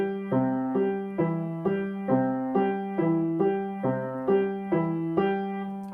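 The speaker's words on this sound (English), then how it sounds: "That's an Alberti bass." A piano plays an Alberti bass arpeggio in C, a steady repeating bottom-top-middle-top note pattern at an even moderate pace, clear and close with no voices.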